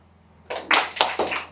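Workshop participants at a one-day session in a resort clap together, starting at about half a second with a broad burst followed by two or three more ragged clap bursts close by, no talk.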